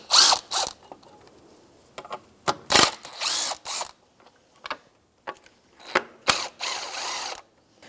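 A ratchet with a 10mm socket turns a bolt on the belt cover bracket of a 2004-2009 Subaru Outback, sounding as close, loud bursts of rapid clicking separated by short pauses.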